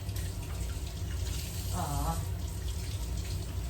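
Tap water runs steadily from a faucet to rinse corn in a kitchen sink, a continuous hiss with a brief splashing change partway through, over a low background hum.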